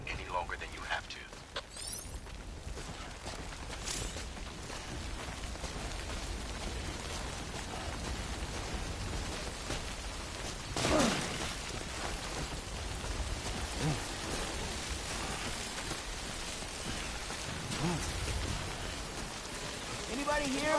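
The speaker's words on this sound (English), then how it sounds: "out in the rain any longer than you have to." Steady rain in Death Stranding pours down in a dense, unbroken hiss for the whole stretch, with one brief louder swell near the middle and no voices over it.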